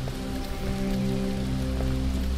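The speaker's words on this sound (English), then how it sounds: "We're walking through the rain." Steady rain falls in the Detroit: Become Human video game, an even, continuous patter on the ground with no voices, holding at a constant level throughout.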